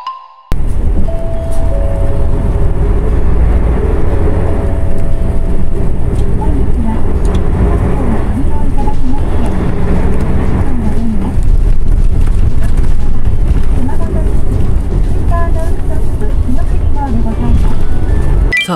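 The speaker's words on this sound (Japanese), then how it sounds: "さあバスは天神の高速バスターミナルを発車していきました。" A highway bus pulls away from the Tenjin bus terminal in Fukuoka, its engine a low, continuous rumble heard from inside the cabin, with a voice talking over it.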